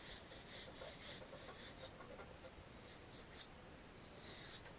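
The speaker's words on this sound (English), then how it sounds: "I'm going to go ahead and sand them lightly" Sandpaper rubbed lightly along tapered wooden arrow shafts, a soft continuous scratchy rasp with gentle rhythmic strokes, close but quiet, with no talking.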